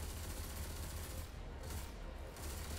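Sustained heavy gunfire from a video game's heavy weapon, shooting at a frozen enemy, a continuous dense rattle filling the whole stretch at steady loudness with no talk over it.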